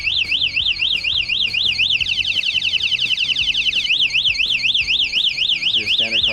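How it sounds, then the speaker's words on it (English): Loud electric bike anti-theft alarm blaring like a standard car alarm, cycling through warbling siren, rapid chirping and whooping tone patterns continuously and close by. "It's your standard car alarm. And it's freaking loud."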